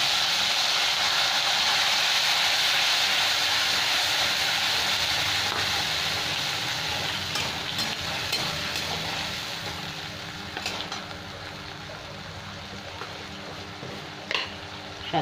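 Ginger paste and chopped tomato hit hot fried spices in a pan for a dal and pointed gourd curry, giving a steady, close hiss of frying that gradually softens over the clip, with no talking.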